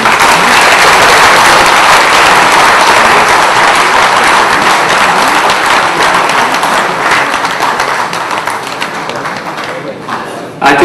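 A large audience claps after a speech, a loud, dense wash of applause that carries on for about ten seconds before tapering off.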